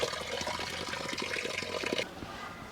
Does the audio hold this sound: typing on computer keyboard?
no